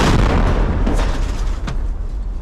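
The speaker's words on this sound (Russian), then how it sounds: "Выстрел!" A loud, sharp gunshot bursts out over heavy rumbling noise, followed by a second fainter crack a moment later.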